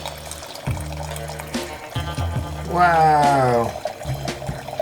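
Au Bon Climat Pinot Noir poured through a Vintorio aerator pourer into a glass, a gurgling, rising pour lasting about a second, with someone talking and exclaiming around it.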